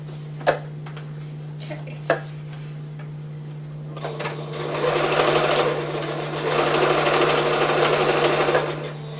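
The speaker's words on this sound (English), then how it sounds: "I'm just going to start sewing this baby up" A sewing machine stitches a pillow, starting after a few sharp clicks and knocks, then running in two steady motor bursts with a short pause between them, fairly close and clear.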